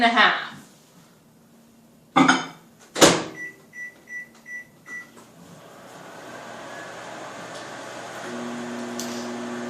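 A microwave oven door thuds shut, a few short beeps follow as buttons are pressed, then a steady low hum runs as the microwave operates.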